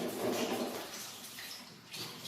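Photo developer solution, part A for automatic processing, poured into a container in a short steady liquid rush, close and fairly loud, with no voices.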